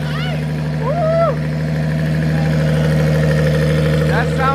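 A Nissan RB20 six-cylinder engine swapped into a Mazda RX7 runs at a steady, rough idle, a loud, close and continuous drone with a faint whine, while brief voices sound over it.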